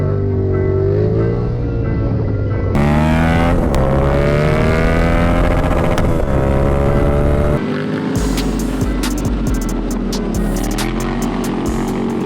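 A 2015 Yamaha FZ-07 motorcycle engine runs continuously while riding. Its steady, loud drone rises and falls in pitch, with audible shifts near three and seven and a half seconds, and wind rush builds toward the end. No one speaks.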